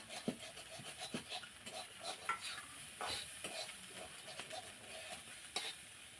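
Fish roe dipped in gram flour batter frying in oil in a pan, a low steady sizzle broken by repeated scraping and stirring knocks of a spatula, with no talking.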